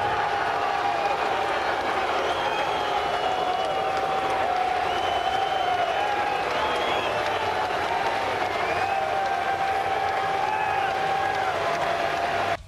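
Race crowd at Bristol after the 2003 Sharpie 500 roars steadily in victory lane for winner Kurt Busch, a dense, continuous wall of cheering, whistles and shouts with no break throughout.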